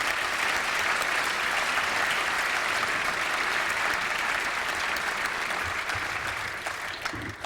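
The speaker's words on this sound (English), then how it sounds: "And now let's give this group a round of applause." A dense, even round of applause from a large dinner audience at a club's 75th anniversary event, sustained and loud throughout, then easing slightly near the end.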